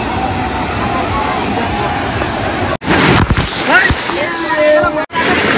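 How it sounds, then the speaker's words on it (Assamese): Sea waves break on the shore at Digha beach, with a constant broad wash that swells into a loud crashing surge midway, cuts off abruptly and returns. Voices are faintly mixed in. "জোৰে ঢৌ এটা আহিছে"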